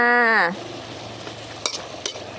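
Stir-fried cauliflower sizzles softly in a pan after a brief voice at the start, and two sharp metallic clinks of a utensil come as the food is scooped out.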